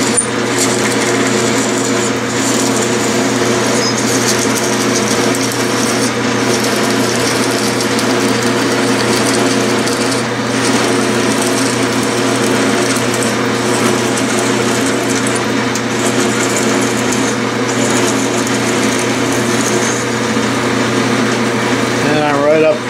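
A large drill bit cuts a clearance hole at slow speed on a Bridgeport milling machine, giving a steady, continuous motor hum with a constant tonal drone and faint mechanical whine throughout.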